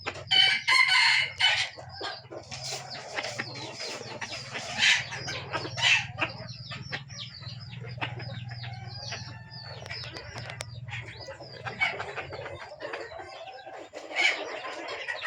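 Several chickens cluck and squawk close by, with a rooster crowing amid the busy, irregular calls of the flock.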